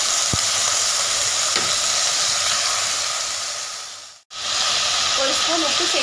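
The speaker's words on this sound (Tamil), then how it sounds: "இது ஒரு 2 to 3 minutes, 5 minutes நம்ம வதக்கி எடுத்துக்கலாம் காயை ஃபஸ்ட்டு." Beans and carrots sauté in a hot pan for a Tamil Nadu sambar or avial, a steady close sizzle and hiss running throughout, broken by one brief silent cut near the end.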